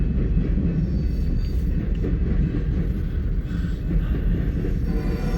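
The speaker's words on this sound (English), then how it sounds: "is a Cargill train." A Cargill freight train rolls past near the UP over BNSF diamond crossing around Fremont, Nebraska, a steady loud rumble of railcars continuing without a break, close by and with no voices.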